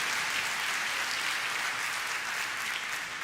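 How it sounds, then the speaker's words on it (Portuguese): Congregation in a church clapping together in praise, a steady, dense wash of applause held at an even level throughout, with no voices standing out. "Pode dar uma salva de palmas ao Senhor."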